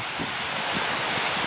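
Sea waves washing onto a shallow beach, a steady broad wash of surf with soft swells and some wind noise on the microphone, continuous and moderately close.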